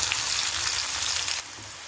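Cumin, green chili and onion frying in hot oil give a dense, steady sizzle and crackle close by, easing slightly toward the end.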